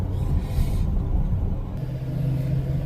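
A 2008 Chevy LMM Duramax diesel truck with an MBRP exhaust gives a deep, loud rumbling exhaust note, steady and low, with a slight swell as the engine revs, and no talking.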